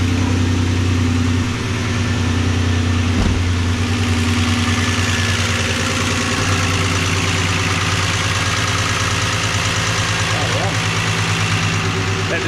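A Hemi V8 idles steadily in a VJ Valiant hardtop, a loud, even rumble with a slight knocking pulse that runs unbroken from start to finish while people talk over it nearby.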